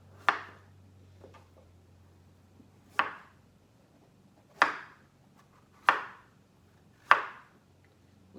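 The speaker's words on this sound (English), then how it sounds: "I'm gonna chop the Cushaw up" Knife chopping through a cushaw squash on a cutting board, five sharp, widely spaced thuds close up, with quiet pauses between cuts.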